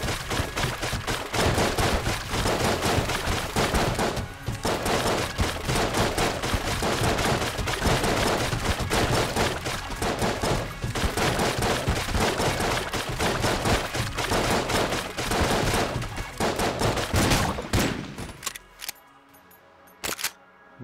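Rapid, dense gunfire from a gun in Enter the Gungeon on Nintendo Switch rattles continuously for most of the stretch, loud and up front, then cuts off into near silence at the end.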